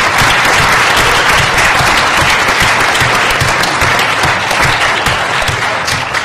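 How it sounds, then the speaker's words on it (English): Loud, dense audience applause fills a hall at an alumni weekend talk, a steady wash of many hands clapping without a break from start to finish. "We should give all of them a round of applause,"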